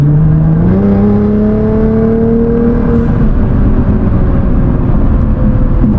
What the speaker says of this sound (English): I'm an automatic, and I'm gonna just step on the gas.